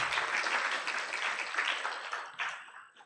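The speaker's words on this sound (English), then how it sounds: "Can we clap for our BDO and Signum for putting this together?" Roomful of attendees at a tax breakfast event claps for the organisers, a full, steady round of applause lasting around three seconds before tapering off at the end.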